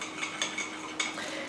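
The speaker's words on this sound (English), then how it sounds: "So now we're going to give that a nice mix together." A homemade eye cream mixture being stirred in a bowl, making soft scraping and light clinking taps of a utensil against the bowl, a few gentle repeated strokes at close range with no voices.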